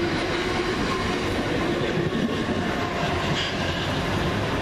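A Class 377 electric train rolls through a station, a loud continuous rumble and rushing roar close by with steady wheel noise throughout.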